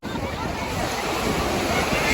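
Sea waves roll onto a hot, windy beach, a continuous broadband roar of surf mixed with wind buffeting the microphone, steady and close throughout.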